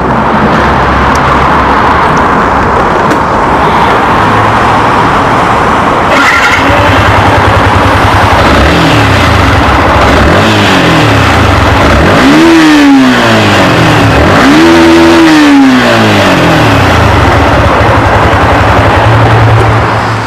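A Yamaha Y15ZR 150cc supermoped idles loudly up close, then its engine is revved in three rising-and-falling blips, with no voices over it.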